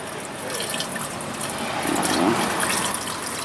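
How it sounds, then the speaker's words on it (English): Distilled water pours steadily from a gallon jug into a container, a continuous gurgling splash close by that grows slightly fuller as it goes. "So we're gonna pour probably about half of this gallon in."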